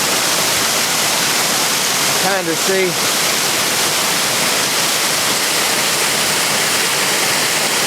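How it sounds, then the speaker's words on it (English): Broad, steady roar of an 80-foot waterfall heard close from the top edge, constant rushing water filling the whole clip, with someone briefly speaking over it partway through. "I'm standing on top of a 80-foot waterfall."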